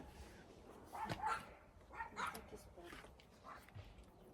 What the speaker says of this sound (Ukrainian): Собаки наші також ближче до вечора оживають